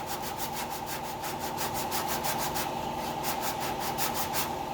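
Sandpaper rubbed by hand across the bodywork of a 1969 B-body car, a steady back-and-forth rasp of even strokes heard close and moderately quiet.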